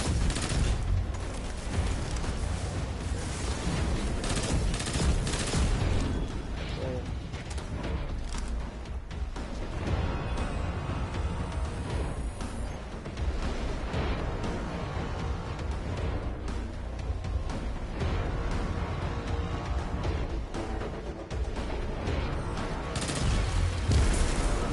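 Submachine gun fire in the video game Destiny 2, a dense continuous stream of rapid shots and booms that fills the whole stretch at steady loudness with no pauses.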